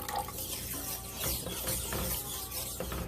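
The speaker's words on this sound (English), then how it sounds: "I'm going to add some more water." Water splashes and trickles into a gravy pan in a steady stream, with a few clinks and drips, close by and without talk.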